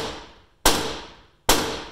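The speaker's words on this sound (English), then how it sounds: "give it a few sharp raps with the hammer" A hammer delivers sharp raps on a broken bolt in aluminum on a GMC motorhome, with two loud metallic strikes heard close up, each ringing and decaying before the next.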